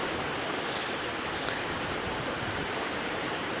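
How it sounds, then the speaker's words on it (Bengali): Tidal floodwater rushes across a broken village road in Char Ramani Mohan, Lakshmipur, making a steady, dense roar and hiss with no break for the whole stretch. "দেখুন কিভাবে রাস্তাটা ভেঙে গেছে এবং পানির স্রোত কিভাবে আসছে"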